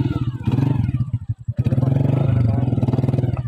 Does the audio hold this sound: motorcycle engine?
yes